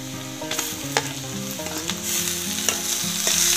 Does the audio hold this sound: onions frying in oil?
yes